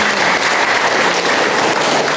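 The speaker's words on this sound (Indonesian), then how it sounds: "Kita beri tepuk tangan Bapak Ibu." A dense, steady roar of audience applause fills a hall at a community gathering, many hands clapping continuously and loudly with no voice over it.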